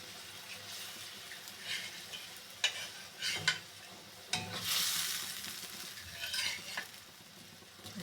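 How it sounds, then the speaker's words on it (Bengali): Hilsa fish fries in a pan with a little water added, giving a soft sizzle broken by intermittent scraping and clattering of stirring, fairly quiet and close. "ইলিশ মাছ ভাজা।"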